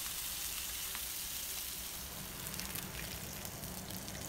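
Salmon fillets fry in a pan with a steady, soft sizzle and crackle that runs throughout, quiet and close with no voices.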